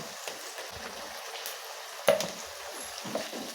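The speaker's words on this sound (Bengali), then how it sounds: "ভেজে নেব" Ginger-garlic paste masala frying in a pan for a papad curry, giving a faint, steady sizzle with a few soft stirring knocks.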